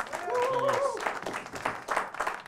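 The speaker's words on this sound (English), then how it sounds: "Can we give Graham a round of applause for joining us on the program?" A studio audience on a talk show applauds a guest in a brief burst of crowd clapping, moderately loud, with a voice speaking or singing briefly over the opening.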